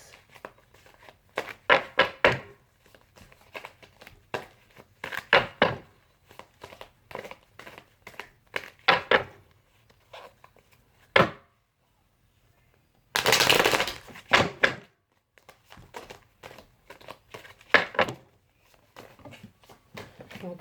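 Tarot cards being shuffled and pulled by hand, in repeated bursts of close riffling and flicking with short pauses between, and one longer, louder rustling shuffle near the middle.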